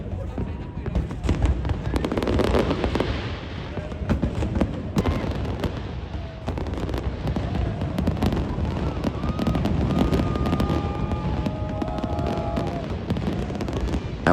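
New Year's fireworks burst over Sydney Harbour at midnight as a loud, dense, continuous crackle of booms and pops. A crowd murmurs and talks underneath, and a few whistling streaks are heard near the end.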